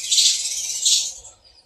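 Sparrows chirp in a dense, high twittering chorus that swells twice in quick succession, then thins out, with no one talking.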